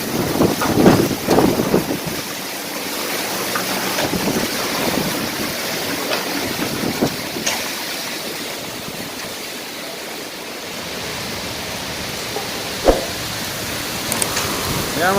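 Heavy rain and strong wind during a storm in the UAE, with a continuous roaring wash of wind and rain across the whole stretch and occasional gusts and knocks, no talk heard.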